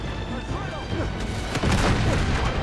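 Grenade explosions in the video game Uncharted 2 boom and crash in quick succession amid gunfire-like bangs, loud and continuous through the whole stretch.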